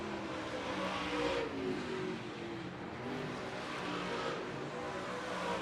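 Late model race cars at Central Arizona Speedway during an SWDRA late model main event: a steady, dense engine roar with rising and falling revs as the pack circles the track, with no talk over it.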